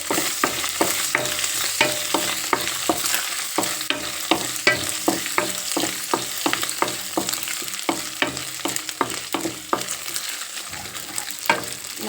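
Raw banana curry with turmeric fries in a pan, a steady crackling sizzle broken by regular scraping strokes of a spatula stirring it, close and continuous with no talk.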